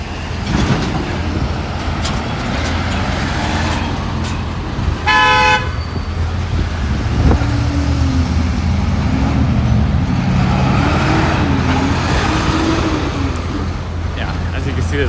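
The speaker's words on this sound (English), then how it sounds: "there's a lot of traffic right here" Busy street traffic in Williamsburg, Brooklyn rumbles steadily with trucks passing, a short loud horn toot partway through, and someone talking over the noise.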